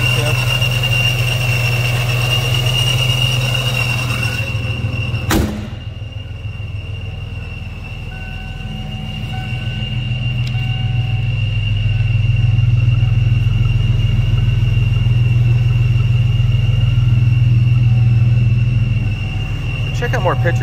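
A supercharged V6 in a 1994 Ford Mustang Saleen runs at idle and revs, a sustained rumble carrying a high steady supercharger whine, with a brief sharp click partway through and a swelling rev in the latter half.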